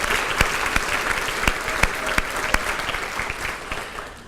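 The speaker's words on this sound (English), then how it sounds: "let's give them a round of applause." Audience applause at a 2016 State of the City event, many hands clapping with sharp individual claps standing out near the microphone, steady and gradually fading toward the end.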